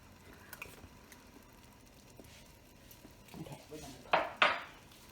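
A small spoon clinks twice against a pan of gravy for pork chops, two sharp bright metallic taps near the end after quiet kitchen background.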